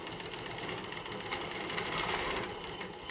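A sewing machine runs in a steady, continuous whir as it free-motion quilts a feather motif into a feathered wreath, loud and close with no pauses.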